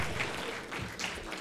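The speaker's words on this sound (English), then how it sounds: "Yeah, clap for that." Audience applause at a poetry reading, a brief patter of clapping from a modest crowd, moderately loud with uneven bursts.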